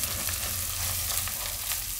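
Coriander-cumin powder and Kashmiri red chilli powder stir-fry in hot oil for a dry pigeon-pea curry, a dense, steady sizzle close by with faint stirring, no voices.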